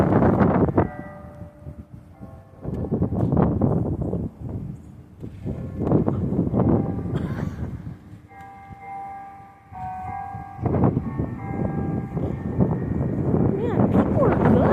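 Church bells ring out at 6 pm, several bells giving repeated sustained chimes with steady tones, heard outdoors with some wind rumble.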